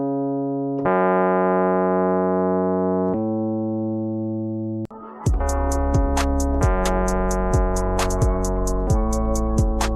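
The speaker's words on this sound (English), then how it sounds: "The bass line sounds like this." A sustained synth bass from an instrumental hip-hop track holds two long tones, then a fuller beat enters with kick hits and a rapid high ticking pattern, loud and upfront with no speech.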